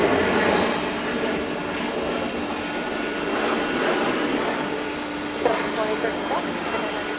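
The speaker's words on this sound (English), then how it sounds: "It's an Airbus A321." Airbus A321 airliner at Atlanta airport at night, a steady broad jet engine roar holding loud and close throughout, with a faint voice talking over it.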